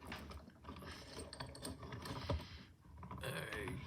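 A Ruko 500 padlock with hourglass spools is picked while clamped in a vise, giving close, quiet metallic clicks, scrapes and ratcheting taps in an irregular rhythm.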